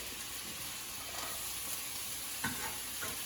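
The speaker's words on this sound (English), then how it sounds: "Nice hot pan, and then you can go in with the ginger, onion, and the garlic." Ginger, onion and garlic fry in a hot pan of oil with a constant close sizzle, broken by a few soft stirring scrapes, and no voices.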